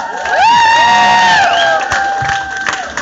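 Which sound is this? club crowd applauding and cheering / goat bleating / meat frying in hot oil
club crowd applauding and cheering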